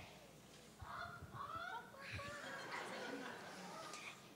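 At a children's Christmas nativity play, a child imitates a chicken with squawky, honking clucks in a few quick bursts, faint and distant in a hall, with soft laughter from the audience.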